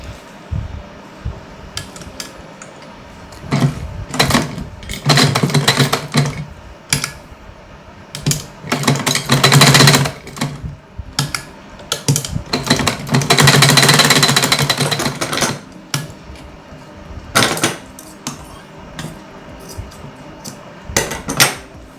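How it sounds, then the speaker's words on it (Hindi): A sewing machine stitches a small cotton summer dress, loud close rattling runs in several bursts of a few seconds each, separated by pauses and handling clicks. "अब हम इस पे सिलाई लगा लेंगे।"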